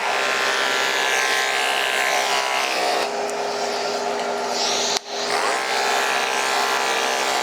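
An electric grooming clipper with a vacuum system trimming a Yorkie's silky coat, a continuous high motor whine with airy suction, shifting pitch as it moves through the hair, with a brief dropout near the end.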